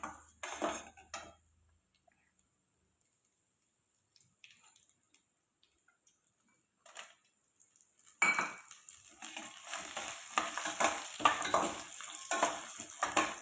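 Dried red chillies frying in a pan for a spicy chayote chutney, with scattered stirring scrapes and clatter that give way to a louder, steady sizzle with spoon stirring over the second half.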